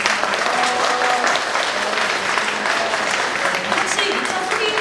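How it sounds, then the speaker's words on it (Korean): Sustained, even clapping from a crowd of citizens and committee members at a Yeongdeungpo peace statue event, dense and close throughout with a faint voice under it. "큰 박수 보내주시면 감사합니다."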